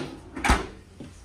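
A single drawer in an RV kitchen slides and bumps shut with one short, close thud, followed by a faint softer knock.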